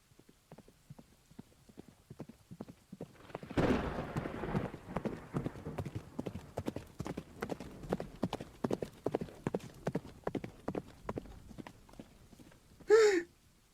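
Horse hooves gallop in a stage play, a steady, even clip-clop that starts faintly and becomes louder after a few seconds. It continues at a fast regular rhythm, and a short sharp burst sounds near the end.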